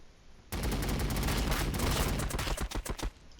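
Sustained burst of automatic gunfire in Warhammer 40k Battlesector, loud and dense for about three seconds before breaking into a few separate shots and stopping.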